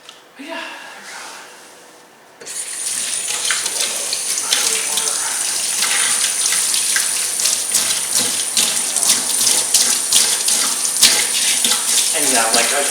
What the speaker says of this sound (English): when I wash my dishes, I tend to use a little bit of hotter water